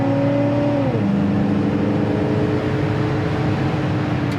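A 1969 Oldsmobile Cutlass S accelerates on the road with kick-down, its engine dropping in pitch at the downshift and then droning steadily and loudly under load.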